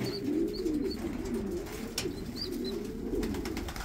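Pigeons kept for breeding coo in low, rolling phrases close by, overlapping steadily, with a few thin chirps above and no talk.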